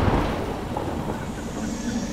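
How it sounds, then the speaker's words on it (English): Thunder rumbles through a stormy scene in the video game Veilfire, a dense, broad low roar with rain-like hiss, steady and fairly loud throughout with no voices. "Lightning."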